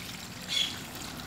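Water streams steadily into pots for Salvadoran corn tamales, a continuous soft hissing pour heard up close with no voices.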